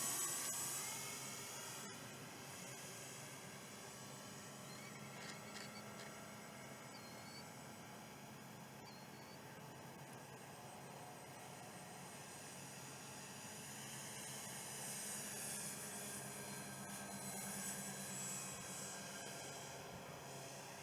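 A 90-inch Flex Twin Otter model airplane on a 6S setup flies overhead, its motors making a faint, continuous drone that swells and fades gently over about twenty seconds, with no talking.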